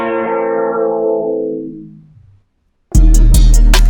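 Beat transition where the music bends steadily downward in pitch while an EQ sweep darkens it, fading almost to silence before the next beat slams in loud with punchy drums.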